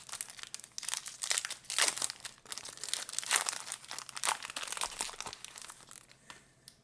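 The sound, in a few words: opening Time Spiral Remastered booster packs, wrapper crinkling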